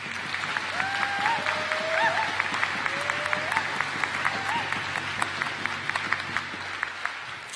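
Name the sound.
audience applause for graduating students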